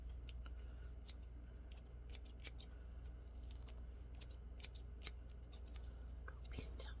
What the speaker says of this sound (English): Go to Mona, she can cut your hair.